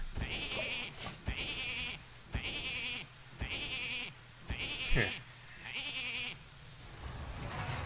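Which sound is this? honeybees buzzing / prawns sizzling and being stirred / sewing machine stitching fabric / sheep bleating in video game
sheep bleating in video game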